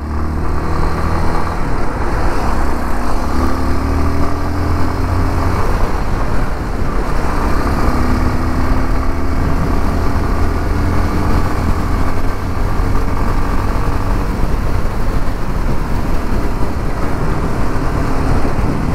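A 2023 Honda Lander 250 motorcycle engine runs steadily while riding, a continuous moderate drone with wind and road noise throughout.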